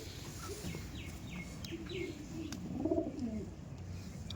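Racing pigeons at a winter pigeon tournament coo softly in low, throaty bursts, with faint chirps and ambient outdoor noise around them.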